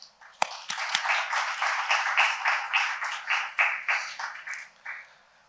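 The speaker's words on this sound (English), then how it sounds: "Please join me in welcoming them with a warm round of applause." A conference audience applauds as panelists are welcomed at a climate policy event on the Hindu Kush Himalayas cryosphere, starting with a few sharp individual claps and swelling into sustained, moderately loud rhythmic clapping across the room.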